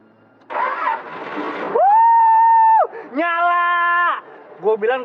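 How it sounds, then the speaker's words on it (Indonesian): A car that had refused to start cranks and catches, a rough burst of starter noise followed by sustained, rising engine tones, loud and close, with brief voices or cries around it. "Mendingan lo coba dulu nyalain mobilnya."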